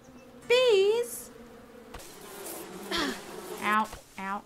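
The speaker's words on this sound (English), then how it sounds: "Bees!" Bees buzz in the video game Above Snakes in short, wavering bursts, mixed with game sounds and a player's voice. The drone rises and falls several times.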